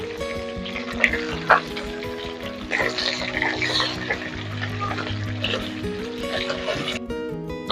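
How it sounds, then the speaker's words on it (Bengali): Small puti fish sizzle steadily in oil with occasional pops and clinks, while a low tonal hum runs underneath throughout. "এখন মাছগুলো আমি ভেজে নিচ্ছি"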